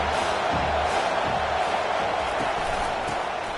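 A football stadium crowd roars steadily for the defense during overtime of a South Carolina at Michigan college game, a loud, continuous wall of cheering with no clear breaks.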